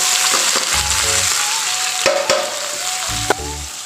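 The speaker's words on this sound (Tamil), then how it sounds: "வெங்காயம் நல்லா வதங்கட்டுங்க" Onions, garlic and curry leaves sautéing in hot oil for a fish curry, a steady close sizzle broken by a few clanks of a spoon against the pan and low thuds.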